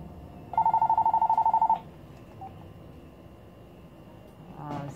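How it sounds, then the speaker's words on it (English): A phone rings once with a rapid trilling electronic tone lasting about a second, then quiet room sound with a faint rustle at the end. "Sorry, my phone is ringing."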